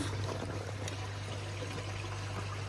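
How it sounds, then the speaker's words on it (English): Water runs steadily through a pond filter system with the drum turned off, a continuous trickling flow over a low, constant pump hum. "I'm gonna just let the water run through there"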